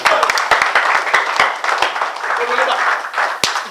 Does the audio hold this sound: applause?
yes